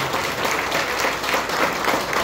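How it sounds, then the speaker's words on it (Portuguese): A church congregation applauds during a Sunday service, a dense, even burst of many hands clapping for a couple of seconds. "palmas."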